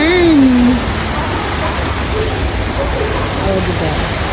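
A waterfall at the Erawan Museum in Bangkok roars as a loud, constant broadband rush, with a brief voice heard over it at the start.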